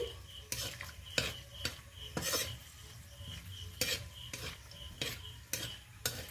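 A whole-spice tempering of cardamom, cinnamon, cloves and peppercorns is stirred in hot oil in a pan, with a soft continuous sizzle and regular sharp scrapes and taps of the spoon, close up and fairly quiet.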